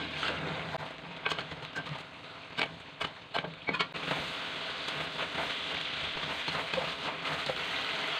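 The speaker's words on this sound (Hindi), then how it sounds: "टमाटर नरम हो गए, अब इसको हम इसकी भुनाई शुरू करते हैं।" Tomatoes frying for Peshawari charsi chicken karahi, stirred with a spoon, a steady soft sizzle with a run of sharp spoon clacks and scrapes against the pan, then settling to an even hiss.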